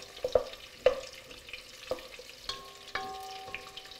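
Garlic frying in a pan for zucchini parmigiana, a quiet steady sizzle broken by several sharp metallic clinks and taps of a utensil against the pan, with a brief ringing tone near the end.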